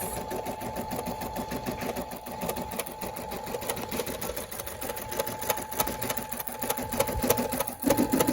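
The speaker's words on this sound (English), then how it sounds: "It's just doing the E right now." A Brother SE600 embroidery machine stitching a letter E, a continuous rapid mechanical chatter of needle strokes, close and steady throughout with no pauses.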